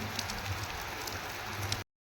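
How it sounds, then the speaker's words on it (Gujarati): Rain falls steadily in an even, continuous hiss while a vehicle is being unloaded, with a low steady hum underneath, stopping abruptly after about two seconds. "અહીંયા આપણે ખાલી કરવા પહોંચી ગયા છીએ અને વરસાદ ચાલુ જ છે હજી"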